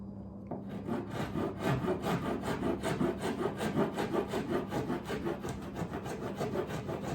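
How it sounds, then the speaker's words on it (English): Steady back-and-forth rasping of an old metal file shaping the wooden edge of an end table under repair, a continuous run of quick, even strokes close by with no talk. "I'm just gonna take an old file."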